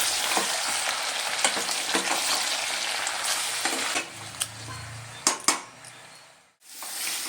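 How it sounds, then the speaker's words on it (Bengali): Mutton pieces frying in hot oil as they are stirred, a dense sizzle with spatula scrapes and clinks against the pot that thins out partway, leaving a few sharp metallic knocks. "এবার আমি তেলের মধ্যে দিয়ে দিলাম। খুব ভালো করে এটা আমি নেড়ে চেড়ে একটু ভেজে নেব।"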